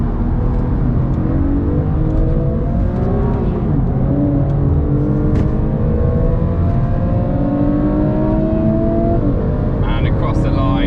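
A Volkswagen Mk8 Golf R driven hard on a race track, its engine droning loud and steady with rising and falling pitch through a fast corner, while a voice talks over the engine noise throughout.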